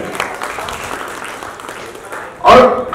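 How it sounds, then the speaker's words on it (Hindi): Audience applause at the Mumbai Global Achiever Award ceremony for comedian Sunil Pal, a steady wash of clapping mixed with voices, ending in a sudden loud burst of cheering and claps. "एक बार सुनील भाई के दो बार तालियां बजाएं।"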